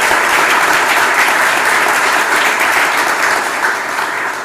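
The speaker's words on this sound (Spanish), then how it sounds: "Otro aplauso, por favor," An audience in an assembly hall gives the rector a steady, dense round of applause that fills the room at full volume and tapers slightly at the end, with no voices over it.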